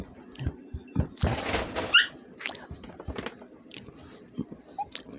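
A dog makes short barks and whimpering yelps indoors, with a louder burst of activity near the start and scattered quieter yips after.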